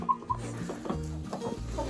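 A hen clucks near a homestead with a few short, sharp calls early on and softer murmurs after, over low background noise.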